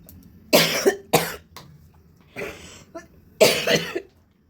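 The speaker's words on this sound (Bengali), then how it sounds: "প্রচুর কাশি।" A woman coughs repeatedly in close, harsh bursts, three quick coughs then a pause, followed by a softer breathy one and a final strong fit, in a quiet room.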